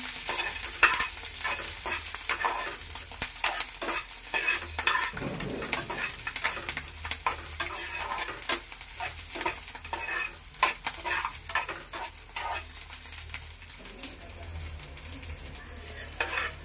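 Green chillies frying in oil give a steady sizzle, broken up by repeated scraping and stirring clicks of a spoon against the pan.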